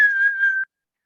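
A single high-pitched whistled note from a person, steady and clear, held for just over half a second before cutting off into silence.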